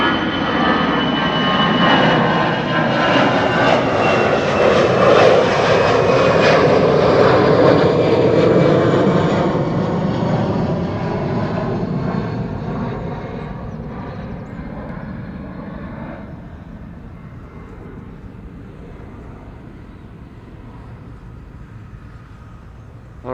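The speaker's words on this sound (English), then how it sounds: "First film the departure of Vueling flight 8355 to Bilbao. That's an A320" A Vueling Airbus A320 departs Schiphol for Bilbao, its loud jet roar swelling to a peak over the first seconds, then fading steadily as the aircraft climbs away into a faint distant rumble.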